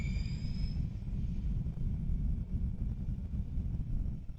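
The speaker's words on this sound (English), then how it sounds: "The C919, tail number B001J, slowly taxis into position." A C919 airliner taxiing into position on the runway at Shanghai Pudong International Airport, a steady low engine rumble with a faint high whine, heard from a distance.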